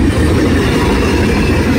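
A CSX freight train, M427, rolls toward Haverhill, Massachusetts at the Maine state line, a loud, steady rumble of wheels and cars close by.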